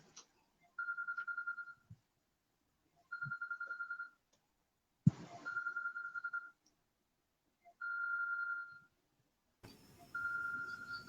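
A telephone rings in repeated trilling bursts, each about a second long with short gaps between them, five rings in all. It is fairly clear and mid-distance, with a few soft knocks and handling noises between the rings.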